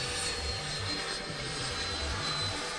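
An RC plane with landing gear lowered flies a low pass coming in to land, its motor giving a loud, steady whine and rush throughout.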